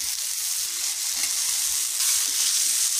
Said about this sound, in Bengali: জিরে বাটা দিয়ে এটাকে কষাবো। দিয়ে দিলাম হলুদ গুঁড়ো, লাল লঙ্কার গুঁড়ো। এবারে এটাকে একটু কষাবো।